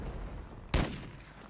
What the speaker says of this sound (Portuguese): Dei um tiro nele.